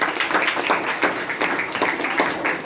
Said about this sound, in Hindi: ताली होना चाहिए, ताली।